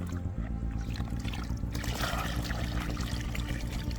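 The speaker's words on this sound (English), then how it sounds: "Mix 1 part fertilizer with 10 parts clean water." Water pours and splashes steadily into a container to dilute fertilizer, a continuous gurgling stream close by.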